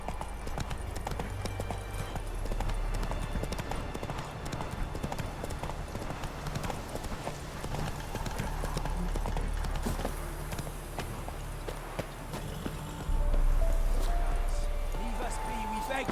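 Horse Roach's hooves clip-clopping steadily along in The Witcher 3: Blood and Wine, a close rhythmic trot under continuous game ambience and music.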